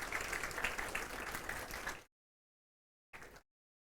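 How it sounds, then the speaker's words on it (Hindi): Classroom students clap for a classmate during an accounting lecture, a steady burst for about two seconds, then silence and a short second burst. "एक बार इनके लिए तालियां बजनी चाहिए दोस्तों।"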